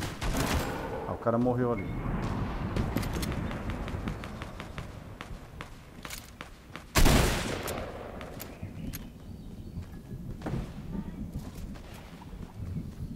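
Energy weapon fire in a video game: rapid bursts of crackling shots, with one loud blast midway, while someone comments between them.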